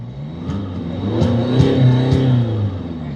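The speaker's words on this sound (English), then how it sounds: "let's give it some revs" Mercedes C-Class diesel engine with a blocked DPF revs up steadily from idle, rising and holding for a few seconds close by, with no talk over it.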